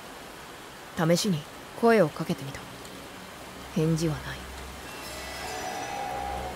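Steady rain hisses in the background of a sci-fi mystery novel game, constant and soft, while a voice speaks in short phrases over it.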